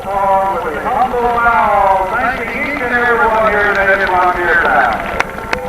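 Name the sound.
horse and Brahma bull performing, hooves clip-clopping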